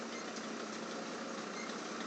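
A Deutz Fahr 4075E tractor idles nearby in a steady, even drone that holds at a constant level for about two seconds with no voices over it.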